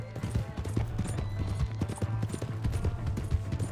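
Horse hooves clip-clop in a steady trotting rhythm in the Red Dead Redemption 2 video game, moderately close, with a low hum and faint background sounds beneath.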